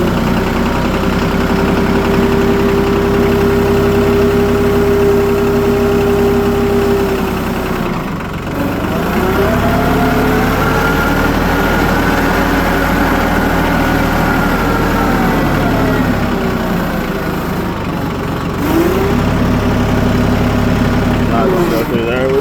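An old tractor engine running at a loud, steady idle close by, a dense low rumble with slight dips in revs, while a person talks over it.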